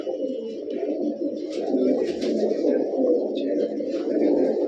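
Chini Kaldom pigeons, several pairs from one loft, coo in a steady, continuous chorus of soft, low rolling calls that run on nearby with no break.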